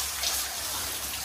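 Steady hiss of water spraying from a hose as a grey horse is showered and washed, a continuous broadband rush with no pauses.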